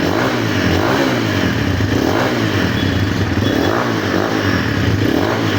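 Microbike MX250 enduro motorcycle engine revving hard close by, a steady loud buzzing roar with rhythmic pulsing throughout and no talk over it.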